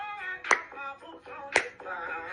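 Two sharp hand claps about a second apart, ringing out in a line dance class over steady background music.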